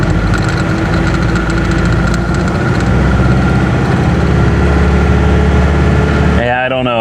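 A 2013 Ford F-series truck engine idles steadily, with a continuous low rumble and a possible misfire at low revs, before cutting to a different sound near the end; a voice may be faintly present.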